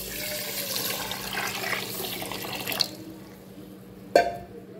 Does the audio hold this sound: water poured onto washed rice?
yes